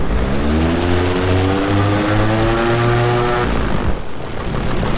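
A paramotor engine revs loud and close during a climb, with a strong droning propeller hum rising steadily in pitch before it drops off abruptly near the end.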